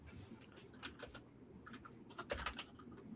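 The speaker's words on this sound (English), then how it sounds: "I don't know if you can hear my keyboard just clanking away" A computer keyboard clatters under quick typing, light irregular clicks in short bursts, fairly faint and close, with no voice over it.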